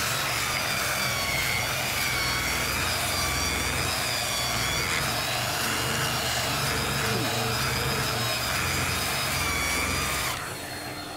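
A Porter Cable Restorer power sander fitted with sandpaper runs steadily and loudly, its motor producing a continuous whine with high harmonic tones that wavers slightly, then cuts off near the end.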